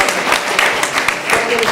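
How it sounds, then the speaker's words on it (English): A round of applause for the school board rises at a Board of Education meeting, dense continuous clapping from the audience that stays loud and unbroken for about two seconds. "can we please give our board one more round of applause"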